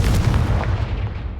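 A Confringo blast spell fired in Hogwarts Legacy, a loud booming burst with a rumbling low-end tail that fades out over about a second, close and forceful with no talk over it.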